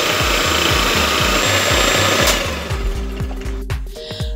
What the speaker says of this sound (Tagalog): beat for 3 more minutes until well combined